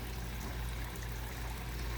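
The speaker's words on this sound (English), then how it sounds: "the sounds of the water." Steady broadband wash of flowing water, like a stream or trickle, running continuously and evenly throughout at a constant level with no voices.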